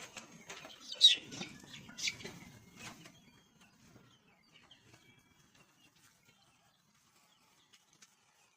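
Black chickens cluck and squawk close by on a rooftop garden, busiest in the first few seconds, then fading to scattered soft clucks and rustling.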